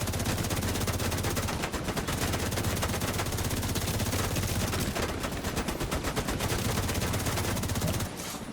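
Sustained rapid gunfire in a video game, a loud, unbroken stream of machine-gun shots with a steady rhythm that lasts almost to the end before easing off, with no talking.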